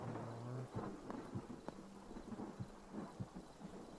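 A steady hiss of rain in the Hytale video game, with a low rumble of thunder and scattered thudding impacts, fairly faint and without speech.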